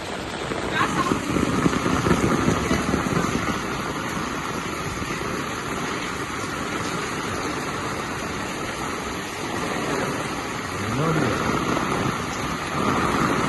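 Heavy rain falling outside a house, a dense steady hiss that continues throughout while a person talks over it.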